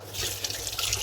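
Fish being washed for frying under a running kitchen tap, a close, steady splashing stream of water that fills the whole brief moment.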